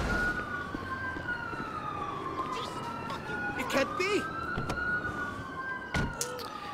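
Wailing police car siren in GTA V, a long rising and falling tone over game noise, with brief clicks and bursts and some talk mixed in beneath it.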